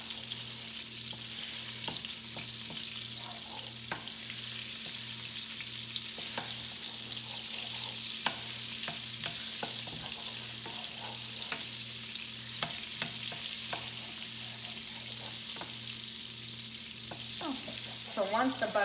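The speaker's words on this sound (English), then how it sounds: "melt the butter" Butter melting in a pan for mushroom and pea risotto crackles in a soft, continuous sizzle, dotted with small pops and spoon clicks, heard up close over a faint steady hum without talk.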